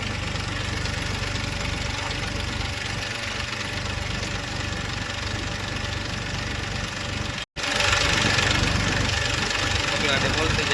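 A farm tractor engine runs steadily at a low, even throb throughout, briefly cutting out for a moment and then resuming slightly louder, with background voices at times.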